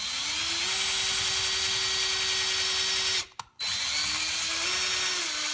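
Power drill with a brad point bit boring into wood for a Stew Mac Mini T guitar kit, a steady whining motor hum that rises in pitch, cuts out briefly, then spins up again.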